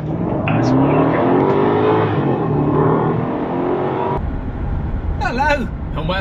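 BMW 650i accelerating hard from a standstill toward 60 mph, a loud steady engine roar that holds for about four seconds and then gives way to road and wind noise, with a voice briefly heard at the end.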